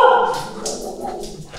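A dog barks and yips in a short burst at close range, a few sharp calls fading out quickly.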